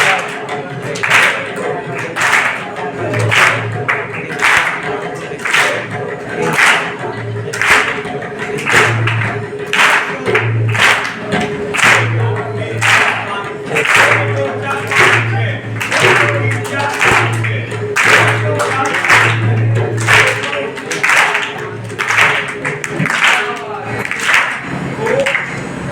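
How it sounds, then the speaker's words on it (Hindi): A group claps hands in a steady, even rhythm to count the tala in a rhythm class, each crisp clap loud and close, with a voice speaking over the beat throughout. "ताली को जो है ना, ताल के लिए बजाया जाता है, हल्ला करने के लिए नहीं।"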